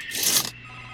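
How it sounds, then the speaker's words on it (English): A telephone rings inside a horror video game set in a hospital, a bright electronic ring lasting about half a second and fairly loud, then cutting off into a quiet low hum. "The phone's ringing."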